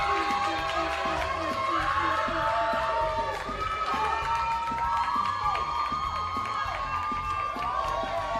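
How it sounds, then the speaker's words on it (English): Audience applause and cheering for music category awardees at a performing arts awards ceremony, a steady loud wash of clapping, shouts and whoops mixed with music throughout. "A big round of applause for all our awardees in the music category"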